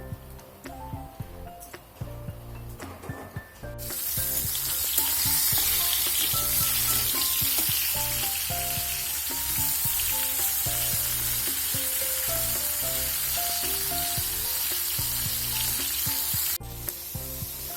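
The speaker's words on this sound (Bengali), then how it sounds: "তারপর তো আমি বেগুনটা ভেজে নিই" Eggplant fries in a pan with a dense, steady sizzle. The frying starts softer, then swells loud after a few seconds and holds, with faint clinks and stirring mixed in.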